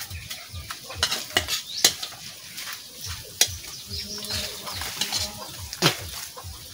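Ingredients sautéed in a pan for Bicol Express give a soft sizzle under sharp clinks and scrapes of a utensil against the pan, with irregular stirring strokes up close and quiet background rumble.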